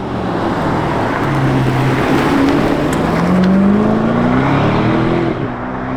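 An Aston Martin DB12 Volante, roof down, revs loudly and continuously, its engine note swelling and rising in pitch over a few seconds with road noise beneath it.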